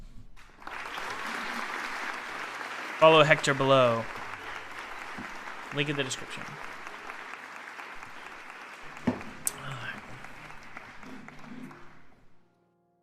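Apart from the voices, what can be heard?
audience applause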